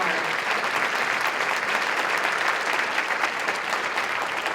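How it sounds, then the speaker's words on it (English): A school ceremony audience applauds in a sustained, even burst of clapping that fills the room, moderately loud and uninterrupted. "please give them applause"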